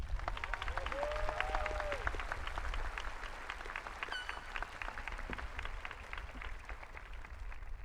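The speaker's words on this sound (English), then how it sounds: "Please give them a round of applause." Sustained audience applause fills a high school graduation ceremony, dense steady clapping from a large crowd continuing for several seconds, with faint voices and a brief whistle-like tone mixed in.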